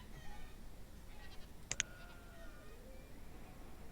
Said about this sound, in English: I keep forgetting about that we do have sheep too.